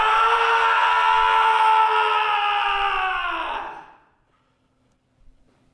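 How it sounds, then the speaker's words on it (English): A single loud, sustained scream holds strong and steady for several seconds, then trails off into near-silence, followed by a faint brief noise at the end. "I want you to scream as loud as you can."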